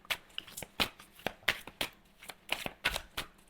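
Tarot cards being shuffled by hand, a close, quiet run of crisp riffling bursts repeating at a steady, brisk rhythm.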